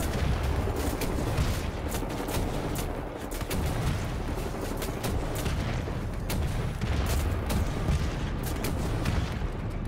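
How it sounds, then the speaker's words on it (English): Rocket launcher fire and heavy combat in the shooter Wolfenstein: The New Order: dense, continuous booming blasts and rapid gunfire, loud and unbroken throughout. "These guys can tank a lot of rocket launcher shots."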